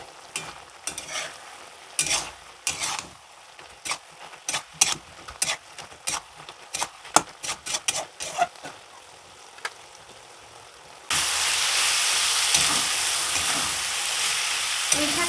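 Malabar spinach and potatoes stir-fried in a pan for a shrimp dish: irregular scraping stir strokes for about ten seconds, then a steady loud sizzle takes over to the end.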